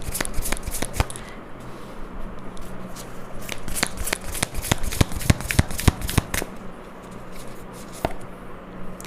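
Tarot cards are shuffled by hand nearby, a series of sharp crisp riffles and slaps in irregular clusters, with soft rustling between them.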